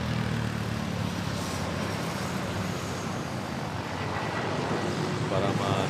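A Malaysia Airlines Boeing 737 MAX 8 at Manila airport gives off a steady, broad jet roar at moderate distance that holds level for several seconds.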